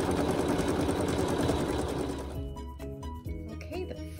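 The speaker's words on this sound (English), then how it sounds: "we'll let it do some more quilting" A sewing machine quilts a block in a steady, loud, continuous whir that runs, then slows into separate stitching beats near the end, with a voice speaking over it.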